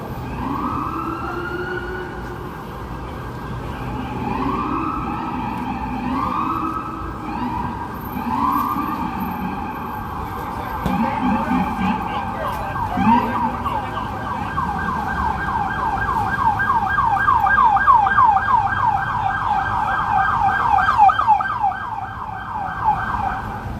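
Several emergency vehicle sirens wail along a Manhattan street on the Upper East Side and Midtown, rising and falling steadily and swelling louder toward the end over constant city traffic rumble.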